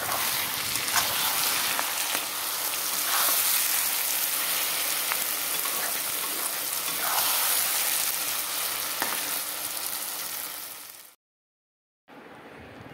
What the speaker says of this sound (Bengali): মশলাগুলো একসাথে ভালো করে কষিয়ে তারপর আবার ফিরে আসবো